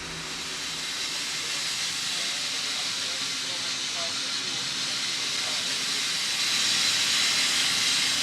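A winch power pack malfunctioning from excessive turbo pressure lets out a steady, loud, broadband hiss that swells slightly toward the end and continues without pause.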